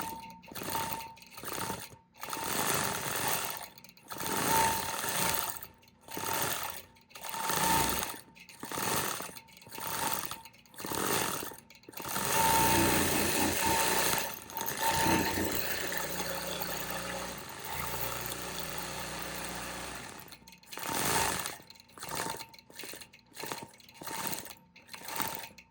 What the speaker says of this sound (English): I am only stitching in the ditch on this side and on this side of this gold